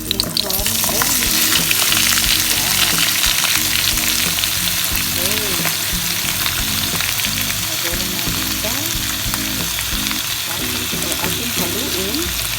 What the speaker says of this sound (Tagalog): At dahil nagbago ng kanyang kulay, ilagay na natin si lechon belly.